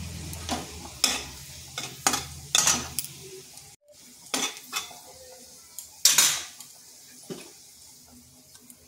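Sliced garlic and a dried chili frying in oil in a pan give a soft sizzle beneath repeated clinks and scrapes of a metal spoon against the pan, in irregular bursts.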